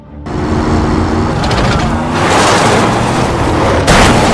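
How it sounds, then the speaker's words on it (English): A speeding car in a film scene slams into a bridge barrier and flips over, a loud sustained roar of crashing impact and tumbling metal ending in a sharp final bang. "Because Broker's car is too fast and hits the bridge barrier, Broker's car flips over"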